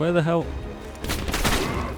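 Rapid bursts of gunfire erupt in a Black Ops Cold War match, a cluster of sharp shots following a brief spoken exclamation.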